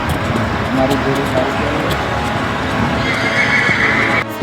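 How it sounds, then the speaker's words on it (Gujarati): A mare walks with rhythmic clip-clop hoofbeats and gives repeated neighs and whinnies close by, while people talk over the sounds throughout. "અમારી શિવાની ઘોડી એવાલ 4 મસ્ત ચાલે છે."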